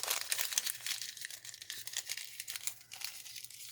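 Toilet paper crumpled by hand for a craft dancer figure made with aluminium wire, a close, continuous crinkling and tearing rustle with no talking.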